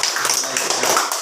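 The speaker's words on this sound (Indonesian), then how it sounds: "Sebelum mulai kita kasih tepuk tangan dulu untuk yang" Students in an Indonesian classroom clap together in a brief burst of applause, a dense run of overlapping hand claps filling the whole moment.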